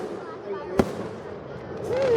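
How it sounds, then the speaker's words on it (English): A single sharp firework burst cracks out near the middle, set against a low outdoor murmur, with a rising whistle of another shell near the end. "Last fireworks are boom, boom, boom, boom"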